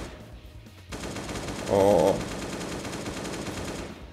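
Rapid machine gun fire rattles steadily through a video game firefight, one continuous burst with a louder, denser stretch in the middle, and a brief voice at the start.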